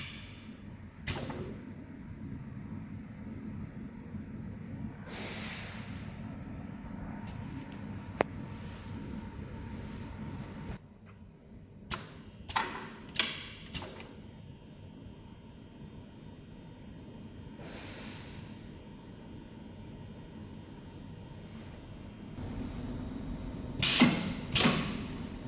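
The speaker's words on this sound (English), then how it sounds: "Okay, now we will load a new workpiece and press this one." A CF-ST2000C double end tenoner working a wooden workpiece in a workshop: a steady mechanical hum with occasional sharp clunks and clicks, a quieter stretch midway, then a cluster of louder mechanical knocks near the end.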